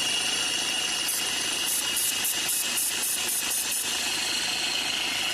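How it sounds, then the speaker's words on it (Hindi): A car engine idles steadily after a noisy fan belt has been sprayed, giving a constant loud mechanical hum with a faint rhythmic ticking running through the middle, with no talking. "ये एक्स्ट्रा आवाज़ आ रही थी इंजन से एक, वो आवाज़ ना अभी बिल्कुल ख़त्म हो चुकी है।"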